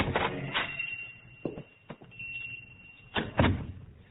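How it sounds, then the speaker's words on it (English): A pawn shop door is pushed open in an old radio drama, giving several short knocks and creaks with a faint bell-like ring, ending in a louder thud of the door. "he pushes open the door and goes in"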